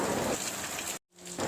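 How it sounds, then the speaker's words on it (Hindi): Monsoon rain falling in Jamshedpur, a dense steady hiss of drops on surfaces, broken by a brief cut to silence before the downpour resumes. "बारिश ने अपना काम शुरू कर दिया है"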